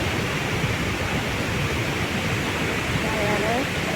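Kaieteur Falls in Guyana, a steep single-drop waterfall, gives a steady broadband roar from the edge of the gorge, dense and unbroken throughout.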